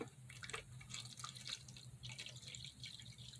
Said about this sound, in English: I'm going to measure out my distilled water